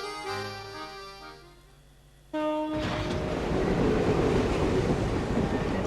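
A moving train in the Professor Layton and the Diabolical Box video game: a fading whistle-like tone gives way to a loud, sudden, steady rumbling rush of the train underway.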